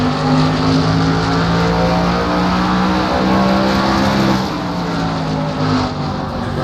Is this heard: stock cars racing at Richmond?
yes